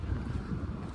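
Wind blows steadily outdoors beside Hamilton Lake on an early-morning walk, a low continuous rumble buffeting the microphone with no voices.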